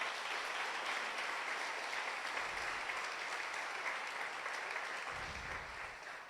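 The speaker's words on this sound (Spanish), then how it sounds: "Vamos a darle un fuerte aplauso al Señor." A church congregation applauding, a steady broad wash of many hands clapping sustained throughout, moderately distant, with faint low thumps underneath.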